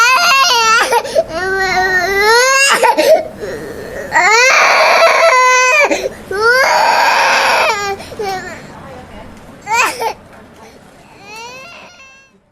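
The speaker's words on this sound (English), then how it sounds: "Someone else's child crying." A child cries in loud, wailing bursts with sobbing breaths between them, close by and unaccompanied, trailing off into quieter whimpers toward the end.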